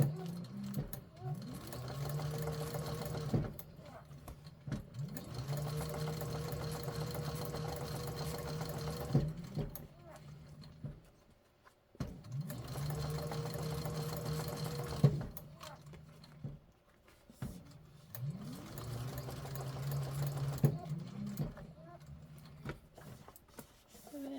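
A sewing machine stitching a handbag seam, running in long steady bursts of rapid whirring with brief pauses between runs and a faint knocking as it passes over bumps.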